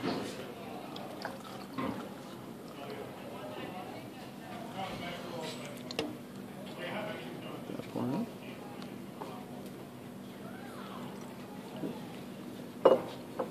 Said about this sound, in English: So we simply let that pour in.